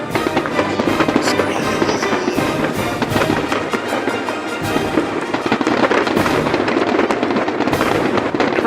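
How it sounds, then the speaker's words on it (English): A pyromusical fireworks display at an international competition explodes in a continuous barrage of loud crackling bursts and booms, dense and unbroken throughout, with no clear speech. "Fireworks. Whoa."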